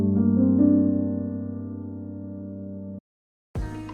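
Soft Labs sampled piano plays dark, clustered chords that ring out and sustain for about three seconds, stop abruptly, and after a brief silence a new chord begins, close and clean with no voices.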